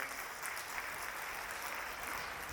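Audience applause at a Hindi poetry recital: a dense, steady wash of many hands clapping, fairly distant and even, continuing without break.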